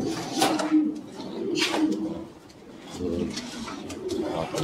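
Levantine pigeons cooing in a loft, several close, throaty coos rising and falling in overlapping phrases, with faint background noise between them.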